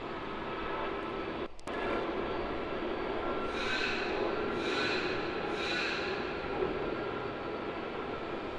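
An Airbus A320neo, flight NZ212 to Christchurch, departs Melbourne Airport as a faint, steady distant engine roar, with a few soft rising bursts of noise partway through.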